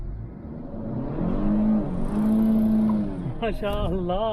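A 2021 Kia K5 with a 290-horsepower 2.5-litre turbo engine accelerates hard, its engine note climbing in a steady, close drone, before a voice speaks over the fading engine near the end.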